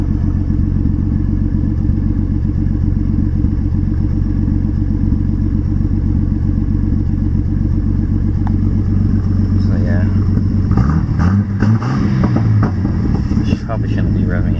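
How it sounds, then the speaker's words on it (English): A warm Nissan Fairlady Z engine idles loudly and close by during a turbo timer cooldown, with a few revs and some clatter building toward the end. "Probably shouldn't be revving it while it's turbo timing."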